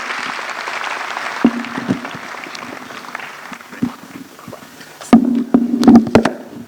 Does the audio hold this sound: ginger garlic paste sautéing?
no